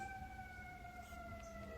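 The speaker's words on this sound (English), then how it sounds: "I hear sirens right now as I'm stating this." Distant sirens wail steadily in the background, faint and continuous over a low rumble of traffic.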